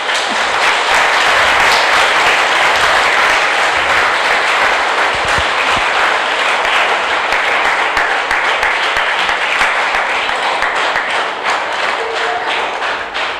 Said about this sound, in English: Now you got some more applause.